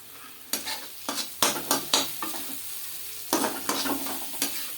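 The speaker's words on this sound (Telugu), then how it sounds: "పసుపు వేసి తిప్పండి." Turmeric stirred into masala frying in a pan, a spoon scraping in a run of distinct strokes over a low steady sizzle, close and clear with no voices.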